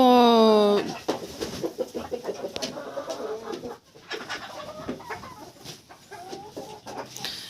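A golden rooster crows loudly and close at the start, then breaks into clucking and scattered calls from nearby poultry while someone talks over the birds.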